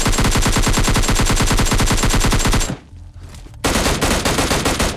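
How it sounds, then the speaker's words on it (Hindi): Rapid automatic gunfire in the PUBG Lite video game, loud and close, with a dense burst of evenly spaced shots, a short pause, then further shooting. "गनशॉट और फुटस्टेप दोनों की आवाज़ आ चुकी होगी"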